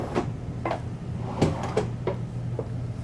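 Kitchen drawers in a 2026 Newmar London Aire 4551 Class A motorhome sliding open and shut, several soft knocks and rattles spaced through a steady room hum, close by.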